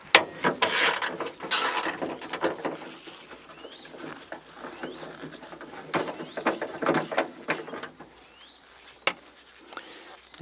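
Someone undoes a 10 mm bolt on the trunk lid of a BMW E36 with a hand tool. Close ratcheting clicks and metallic rattles come in short, irregular bursts, and birds chirp faintly in the background.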